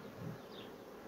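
Honeybees buzz densely at a hive during artificial swarm splitting, a steady close drone with no other sounds.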